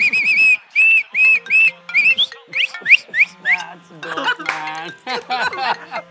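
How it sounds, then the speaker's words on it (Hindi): A whistle is blown like a referee's in a run of short, shrill, evenly spaced blasts, some bending upward in pitch, followed by voices and laughter mixed with a few more toots, all loud and close. "मुझे सीटी बजानी भी आती है."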